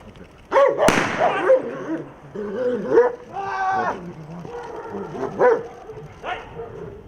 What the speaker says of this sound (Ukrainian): Здесь у нас собака.